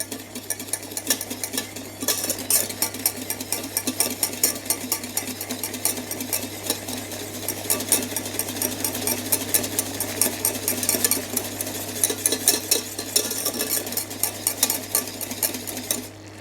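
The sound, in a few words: stirring boiling peach confit in a saucepan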